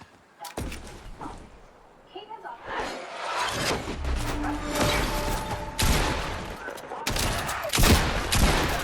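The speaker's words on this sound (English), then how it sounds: "Look at that shotgun technique." Shotgun blasts and gunfire in the Fortnite video game, with bursts of shots, impacts and whooshes in a busy, loud battle mix, with voices talking over the action.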